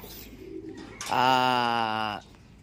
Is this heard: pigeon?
yes